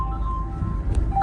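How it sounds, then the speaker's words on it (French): A phone rings inside a moving Citroën Berlingo, with steady electronic tones over the low rumble of the car on the road. "Ça c'est rien, c'est le téléphone qui sonne."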